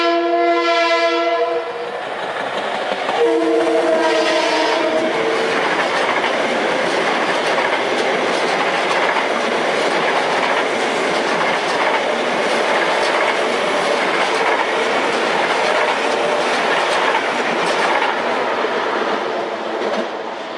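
A Long Island Rail Road eastbound train passes on the main line, opening with a loud horn blast followed by a second horn, then a sustained roar of wheels and rail noise that stays steady and close throughout.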